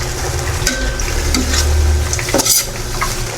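Paksiw na saluyot, jute leaves simmered in a sour, salty broth, is stirred in a pot: a steady, close scraping and swishing over a bubbling simmer, with a brief louder scrape near the end and no talking.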